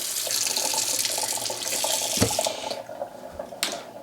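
Cold tap water runs steadily into a sink while water is measured out for butter tart pastry, a close splashing stream with a couple of clunks before the flow eases near the end.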